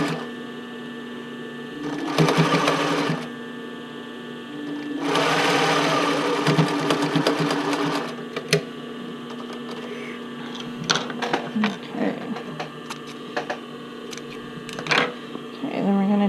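Bursts of a sewing machine stitching bra cups into the band run in short, loud rapid runs separated by pauses, close up, with clicks and fabric handling between stitches over a steady motor hum.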